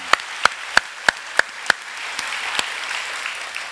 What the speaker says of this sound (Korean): Let's give a clap offering unto the Lord.